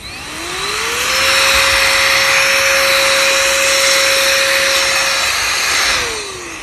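KOONIE battery-operated rechargeable air duster blowing: its motor whines up over about a second, holds a loud steady high rushing tone with a rushing gust of air, then winds down near the end.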